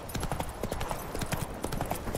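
Roach, the horse in The Witcher 3, clops along with quick, uneven hoofbeats close by, a busy run of sharp knocks filling the short stretch.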